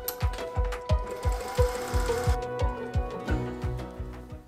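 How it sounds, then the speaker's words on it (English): A sewing machine runs a gathering stitch on fabric for a shirt cuff. It gives a quick, rhythmic mechanical thumping, about three beats per second, close by and fairly quiet, with a slight whirring hum beneath. "I am going to be gathering this by machine, which is not something I would normally do"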